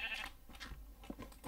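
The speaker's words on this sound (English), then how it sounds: "that's a sheep" A sheep bleats in the Minecraft Beta 1.0.2 game world, a short, quiet wavering cry with no talking over it.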